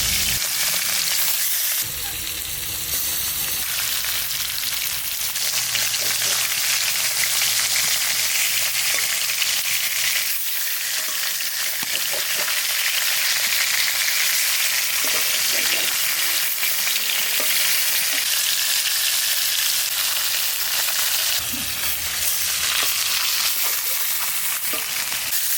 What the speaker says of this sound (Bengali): ভাজা করবো না হালকা ভেজে নেবো আর রুই মাছটা ভেজে